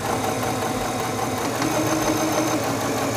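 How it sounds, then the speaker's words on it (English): A Singer 7258 computerized sewing machine stitches forward along a seam with a steady, close motor hum and no pauses. "Release the button and sew forward along your seam"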